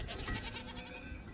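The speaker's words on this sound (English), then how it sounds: "There we go, we have a goat." A goat bleats in the farming colony-building game Farthest Frontier, a short, close, wavering cry lasting about a second over soft background game ambience.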